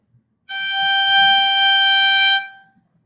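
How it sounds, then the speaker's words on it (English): A single bowed high G on a string instrument, played in third position with the fourth finger, held steady and bright for about two seconds before stopping, with no other sound around it. "We start with the highest note that we've played so far with shifting, a high G."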